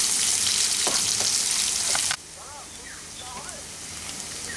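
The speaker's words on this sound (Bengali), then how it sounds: "পেঁয়াজটাকে একটু হালকা করে ভেজে নিচ্ছি" Two medium chopped onions sizzle lightly in hot oil, a loud bright frying hiss that drops abruptly partway through to a softer crackle, with faint bird chirps in the background.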